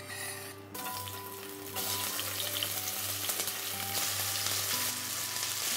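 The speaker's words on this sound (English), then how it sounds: "Then add the onions." Red onions sizzle and fry in olive oil in a hot pan for a lamb, olive and orange stew, a steady close crackle that jumps louder partway through and keeps going with light stirring.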